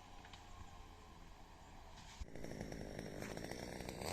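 Chainsaws cut birch trees on a large clearing job, a steady droning buzz that jumps louder and rougher partway through as a saw bites into wood, running continuously with no talk.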